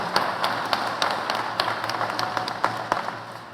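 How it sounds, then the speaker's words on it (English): Audience at the 2023 Muskegon Community College commencement applauding graduates, a brief burst of close, crisp individual claps from a modest crowd, irregular and sharp, fading slightly toward the end without talk. "Graduates, okay, I'll hold for applause there."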